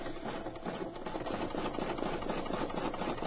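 An embroidery machine stitches a lamb key fob design, a fast, steady mechanical needle chatter with a light rattling hum, close and continuous with no talking.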